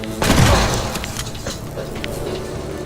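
A shotgun blast in the video game Mutant Year Zero, fired from an elevated position: one sharp, heavy boom followed by thuds and mechanical clatter as it dies away.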